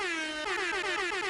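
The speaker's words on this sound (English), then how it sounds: "That deserves an air horn." A loud air horn blares in two short bursts, the second pulsing rapidly, with strong harmonic tones and no other sounds.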